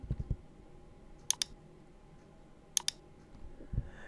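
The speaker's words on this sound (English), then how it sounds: "Click, click, left click, left click." Sharp mouse clicks during edge selection in Blender, heard as two quick double-click pairs spaced apart over quiet room noise, with a few soft low thumps at the start and end.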